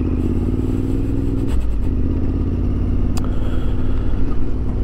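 Motorcycle engine rumbling steadily while riding along a road, a continuous close drone with a brief rise around the middle and wind noise, no talk.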